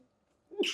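A single short sneeze bursts out at the very end after near silence, close and sharp, during a tabletop role-playing game session.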